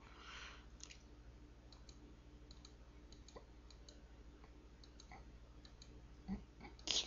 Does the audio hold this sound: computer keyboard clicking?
yes